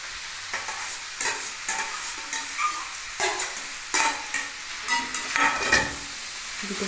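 Veg chowmein noodles are stir-fried with vegetables in a hot pan, a sizzling hiss broken by rhythmic, close scraping tosses of a spatula.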